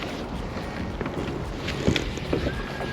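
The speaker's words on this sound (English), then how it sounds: "the wind is blowing like crazy" Strong winter wind buffets the microphone on a fishing boat, a constant rough roar with gusty thumps over lapping water.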